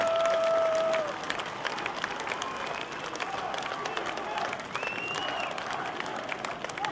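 Audience applause at the Prime Minister's speech in Republic Square, Yerevan: steady broadband clapping from a large outdoor crowd throughout, with a voice audible near the start.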